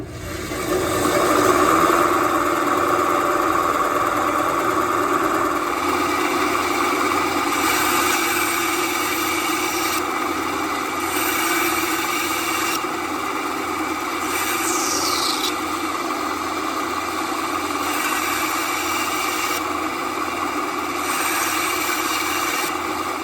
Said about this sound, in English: the Craftmaster bandsaw is up and running, ready to roll